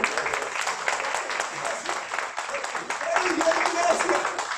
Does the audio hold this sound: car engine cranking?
no